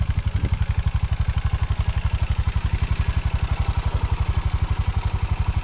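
Single-cylinder style engine on a farm vehicle pulling a cultipacker for a fall food plot, a loud steady low thumping idle rhythm with light clatter, continuous and close.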